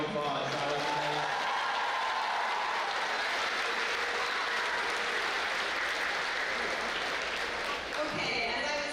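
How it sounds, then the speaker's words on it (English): A high school gathering's audience applauds a dance group, a sustained wash of clapping and cheering that fills the room for several seconds before easing off near the end. "I think we should give our amazing dance group another round of applause."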